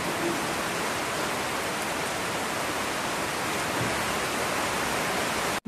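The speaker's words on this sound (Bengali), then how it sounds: "এখন হয়েছে দেখো, বলতে না বলতে বৃষ্টি শুরু হয়ে গেছে।" Rain falls as a dense, steady hiss, even and unbroken throughout before cutting off abruptly at the very end.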